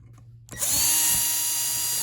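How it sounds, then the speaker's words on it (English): A small powered screwdriver whirs into life after a brief silence, then holds a steady high motor whine while undoing Phillips screws on the bottom board of a Mastermind PBC/6X. "you just need to remove those with a standard small Phillips screwdriver of some sort"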